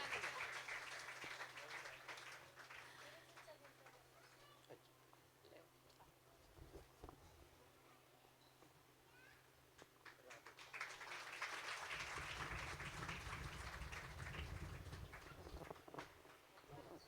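A gathering at a religious katha honours a guest with clapping: quiet, distant ambience gives way to a fuller, sustained burst of applause from the crowd near the end.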